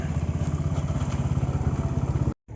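A motorcycle engine idles nearby with a steady, rapid thumping pulse and mechanical clatter, continuous and loud before cutting out abruptly near the end.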